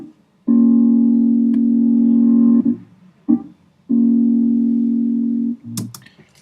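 A reversed audio loop playing back in Ableton: two long, sustained buzzy tones, each swelling in abruptly and cutting off, separated by short gaps and a few clipped fragments, ending in a sharp burst.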